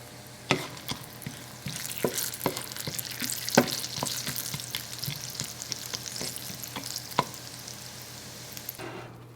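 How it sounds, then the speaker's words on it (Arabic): Pine nuts fry in a single drop of oil in a pan, with a steady close sizzle broken by frequent sharp scrapes and taps as they are stirred, and no voices. "وهلا رجعت حطيت نقطة زيت لحتى لي احط الصنوبر من بعد ما شلت اللوز."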